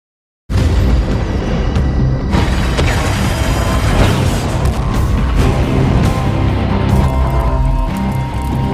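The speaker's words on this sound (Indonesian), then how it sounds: "tiba-tiba terjadilah ledakan yang sangat besar" A massive, sustained roar of oil tank explosion noise, dense and loud from start to finish, with rumbling booms and crackling debris throughout.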